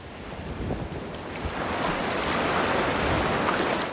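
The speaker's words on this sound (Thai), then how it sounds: "หรือเสียงทะเลครับ" Sea waves wash in a continuous broad roar, building slightly and then holding steady, with gusty wind noise across the microphone.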